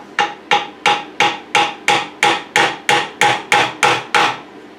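Twelve evenly spaced hammer blows drive 3 mm rivets into a biscuit-tin guitar body, each a sharp metallic tap with a short ringing decay, loud, close and in steady rhythm with no voices.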